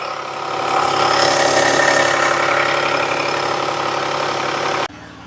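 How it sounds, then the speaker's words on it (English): A 2019 Jeep Cherokee with low power and possible internal engine issues idles close up, a steady, loud mechanical drone with a rough, ticking undertone, then drops suddenly to a quieter hum near the end. "That engine sounds like it's got some internal issues."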